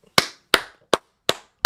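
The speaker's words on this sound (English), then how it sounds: "booty clapping sounds," Booty clapping sound effect: five sharp, close, fleshy slaps spaced roughly evenly with clean silence between, each cutting off quickly.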